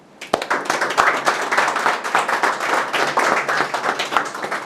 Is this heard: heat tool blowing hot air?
no